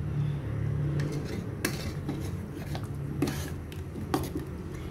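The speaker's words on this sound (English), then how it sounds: "Just mix it until the powder is dissolved with the dal curry." A pot of dal and vegetable sambar being stirred, with intermittent scraping and clinking of a utensil against the pot every second or so over a low background hum.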